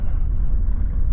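Inside the cab of a Volvo FH 540 on a stony gravel road, a constant deep engine and road rumble drones briefly without pause.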